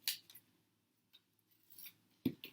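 Scissors trim a small paper shape for a collage nose, giving a few quiet, crisp snips spaced apart, close by in a calm room.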